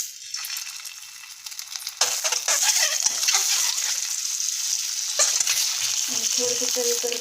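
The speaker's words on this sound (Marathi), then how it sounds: "हे अंडे जे आहे ते आपल्याला थोडीशी हळद आणि मीठ टाकून हे करायचं उबळून घ्यायचे तर हे अंडे मी याच्यामध्ये सोडत आहे" Boiled eggs dropped into hot oil with turmeric and salt, a sharp burst of sizzling that jumps up loudly and then continues as a steady close crackle with some stirring.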